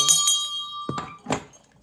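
A bright bell rings once with a sustained metallic tone, followed by a couple of dull knocks and clinks nearby.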